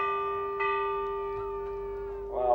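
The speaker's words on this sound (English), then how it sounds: "there's the bell, the end of the first chukker" A single bell rings out to end the first chukker of a polo match at the Queen's Cup, a sustained ringing tone with faint taps, decaying slowly before crowd noise rises.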